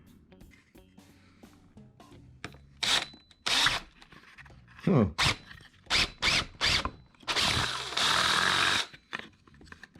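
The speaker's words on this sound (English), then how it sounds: "ABS plastic grips drill bits." A handheld drill whirs in several short bursts into ABS plastic, stopping and starting, ending in one longer grinding run as the plastic grips the bit, with a brief exclamation from a voice.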